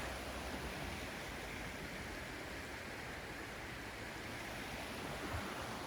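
A creek running through Lithia Park in Southern Oregon makes a soft, even rush of flowing water, heard faintly and continuously from nearby without any talking.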